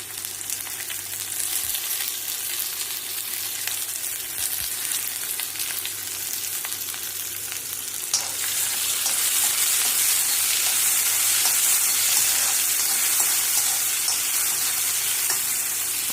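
Tomatoes frying in a hot pan for egg cabbage masala, a steady close sizzle that swells louder about halfway through as they hit the oil, with no talking.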